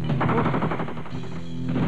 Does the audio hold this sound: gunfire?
yes